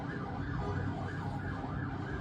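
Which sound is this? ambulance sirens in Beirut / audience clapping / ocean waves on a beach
ambulance sirens in Beirut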